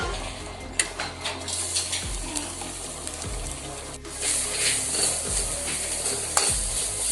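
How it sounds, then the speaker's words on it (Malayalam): Grated coconut is stirred and roasted in a little oil in a pan. A steady low sizzle runs under repeated scraping strokes of a spatula that come every second or so, close and fairly loud. "ഇത് നല്ലൊരു ബ്രൗൺ കളർ വരെ നമ്മൾ ഇളക്കി വറക്കണം, അല്ലെങ്കിൽ കരിഞ്ഞു പോകും"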